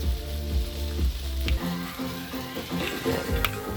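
A BBQ beef burger patty with melting cheese sizzles steadily on a hot grill, a continuous loud frying crackle with small pops throughout.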